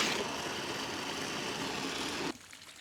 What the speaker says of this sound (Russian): Да, после того, как настоялось, промываю водой